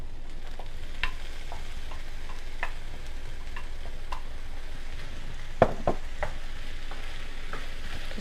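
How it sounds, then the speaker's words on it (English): Mushrooms and zucchini fry in a pan with a steady sizzle, while a utensil stirs them with occasional soft scrapes and clicks against the pan. "Just give it a good stir."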